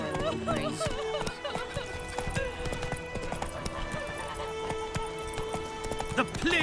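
A horse gallops in the fantasy video game The Witcher 3: Wild Hunt. Steady rhythmic hoofbeats run throughout under game music, with a brief whinny near the start.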